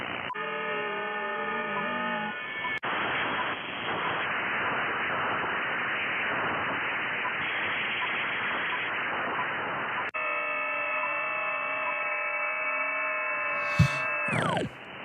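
Static on the 20-meter HF amateur band comes through an Icom receiver as a loud, steady hiss and crackle. Tonal, buzzing interference joins it for stretches, and it ends in a short squeal.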